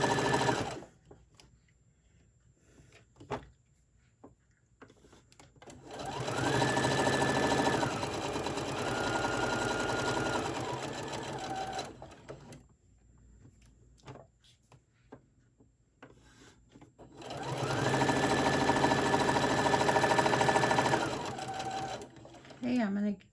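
A sewing machine stitching a seam on a crossbody cell phone pouch, two bursts of steady whirring clatter of several seconds each separated by quiet pauses, with someone talking throughout.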